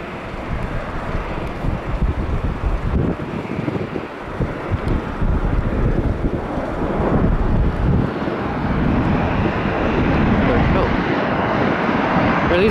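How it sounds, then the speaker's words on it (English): An Embraer airliner landing at Minneapolis-St. Paul International Airport, a loud, sustained engine roar that swells and rumbles throughout, mixed with gusty wind buffeting the microphone. "Here's another Embraer landing."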